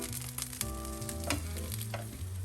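Zucchini slices fry in a skillet with a steady close sizzle, a few clinks and a faint tonal hum underneath, no talking.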